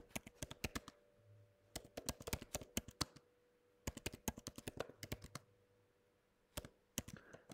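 A computer keyboard typing a command: quick, faint bursts of key clicks in several clusters with short pauses between, close and alone with no talking.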